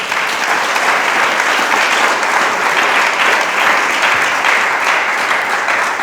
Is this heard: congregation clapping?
yes